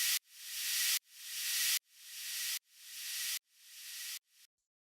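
A filtered white-noise sweep effect in a future bass mix, with low end removed, repeats five times as rising hissy swells that cut off abruptly, followed by a short final burst, clean and alone.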